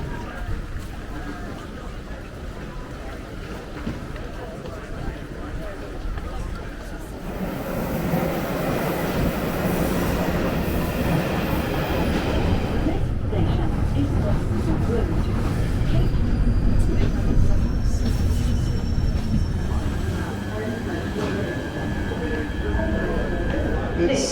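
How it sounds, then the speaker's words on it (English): A noisy train pulls in and comes to a halt right alongside at a busy Manchester station, a loud, broad rumble and roar that swells and then holds steady, with general station bustle around it. "Some noisy train coming to a halt just next to us there."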